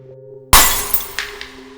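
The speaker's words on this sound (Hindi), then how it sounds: "बॉस ने सामने रखी खून से भरी कांच की दूसरी बोतल उठाई और जमीन पर दे मारी" A glass bottle full of blood smashes on the ground with one sharp, loud crash after a brief low hum, followed by a few scattered tinkles of falling shards.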